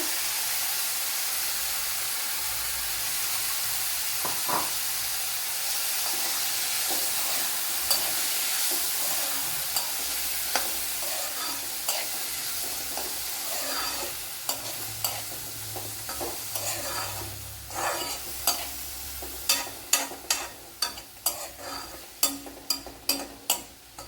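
Cut snake gourd frying in a pan while being stirred, with a steady sizzling hiss and a run of sharp, regular scraping stirs that turn louder and more rhythmic toward the end; no one speaks.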